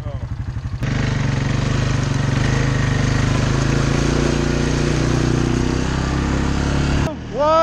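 A Honda FourTrax 300 ATV engine roars at high, sustained revs as a wheel spins in mud. It is loud and close, then cuts off abruptly near the end, with talk before and after.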